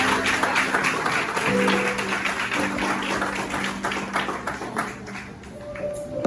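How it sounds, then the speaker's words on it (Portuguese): A church congregation at a Portuguese-language service applauds throughout, a dense wash of clapping with a voice and sustained tones underneath. "Você que puder, dê uma linda salva de palmas ao nosso Senhor."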